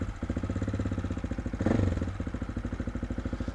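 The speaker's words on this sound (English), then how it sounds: "The engine is warm right now." A warm AJP PR7 enduro motorcycle engine idles with a steady, rhythmic low chugging, close by, briefly swelling once before settling back to its even putter.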